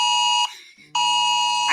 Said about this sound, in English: It's some kind of emergency alert that just popped up on my phone